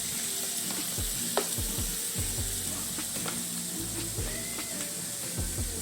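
Salted pork and bacon fry in a pan with a dense, lively sizzle and popping fat, close and steady throughout, with no talking.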